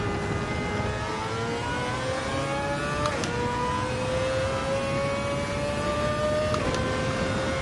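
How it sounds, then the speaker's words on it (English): A car engine in a racing game, the Nsx on Kyoto Driving Park, drones steadily and loudly with rising pitch through each gear, briefly dipping at two quick upshifts before climbing again. "look at that car go"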